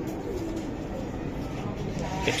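Cooing of large racing pigeons in a loft, a soft steady murmur of low coos running continuously at close range under a busy background with voices nearby.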